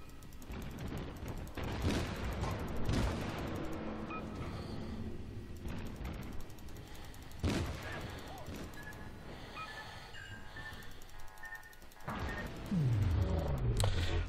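Ship guns fire in the naval video game World of Warships, heard as scattered booms and blasts at irregular intervals over a busy mix of game sound effects, with a deep rumbling sweep near the end.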